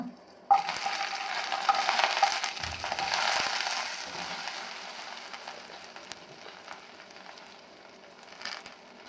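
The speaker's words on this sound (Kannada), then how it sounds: "ಇವಾಗ ನಾವು ಒಂದೊಂದೇ ಹಾಕಿ ಇದರಲ್ಲಿ ಫ್ರೈ ಮಾಡೋಣ" Dried chillies, onion, tomato, ginger, garlic and spices frying in hot oil for rice bath, a sudden loud sizzle that starts abruptly, then stays steady with stirring and crackling, easing slightly toward the end.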